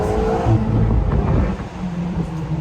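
A 2021 Ferrari Portofino M engine revs loudly and close with a steady, throaty tone, easing slightly toward the end.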